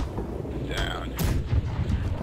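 Ship cannons boom in the naval video game Blackwake, a couple of heavy blasts amid chaotic battle noise and raised voices of players shouting.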